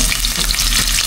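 Onion and ginger sautéing in a wok, a steady close sizzle of frying with light stirring, continuous and fairly loud over a brief stretch.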